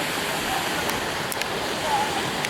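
Waterfall near Banfora, Burkina Faso, a steady, dense rushing roar of falling water, close and continuous throughout with no breaks.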